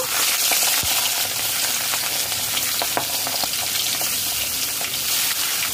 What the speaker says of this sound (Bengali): কড়াইতে সর্ষের তেল দিয়েছি। কিছুক্ষণ পর গরম হয়ে গেছে। মাছ ভেজে নেব।